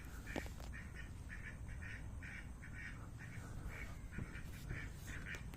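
Goose honking near water at night in a park in Sri Lanka, a steady series of repeated nasal calls at a moderate distance over a constant low background hum.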